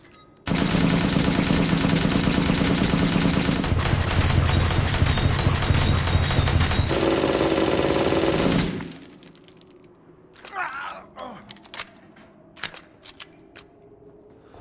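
The Dragoon machine gun in Resident Evil Village fires in long, loud continuous automatic bursts that change tone partway, then stops, followed by quieter clicks and clacks of a reload.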